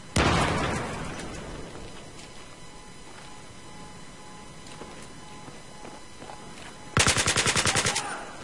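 A grenade blast in Battlefield 3 bursts loud and near at the start, then fades into a quieter battlefield ambience. Near the end, a rapid burst of automatic gunfire rattles out.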